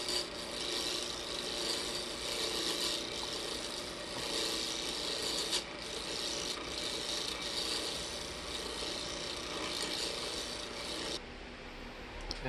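Woodturning gouge cutting a wooden memorial ring blank down to round on a lathe, a steady close rasping and scraping that runs continuously for the whole stretch, with slight swells in intensity and a small drop near the end.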